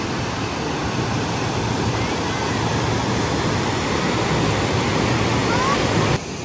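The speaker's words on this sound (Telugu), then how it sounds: "చాపరాయి వాటర్ ఫాల్స్ ఇవి చాలా బాగున్నాయి" Chaparai waterfalls near Araku in monsoon season, a steady, loud broadband rush of falling water that continues unbroken for several seconds before dropping slightly in level at the very end.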